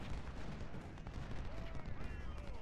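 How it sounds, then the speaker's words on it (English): Artillery fire from the video game Ultimate General Civil War booms continuously as a dense low rumble, with someone talking over it. "The artillery's doing its job."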